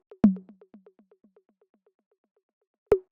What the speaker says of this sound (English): So it's just kind of like a simple like drum machine style tom.